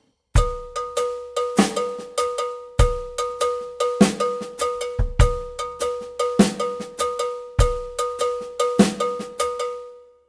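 A drum kit plays a halftime shuffle 12/8 Afro-Cuban groove with cowbell: bright, evenly spaced cowbell strokes over kick and snare accents, loud and close, with no talking.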